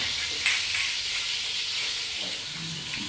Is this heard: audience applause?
no